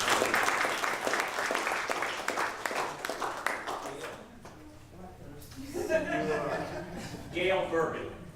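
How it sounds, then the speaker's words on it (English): Applause for graduates at a 2014 certificate recognition ceremony: a crowd claps densely and steadily for several seconds, then fades into a voice talking with a few chuckles. "Let's give them a big round of applause."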